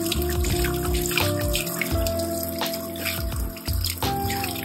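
Running water rinsing out a betta fish tank, a steady splashing trickle with low sloshing and knocks of the tank, close and moderately loud with no talking.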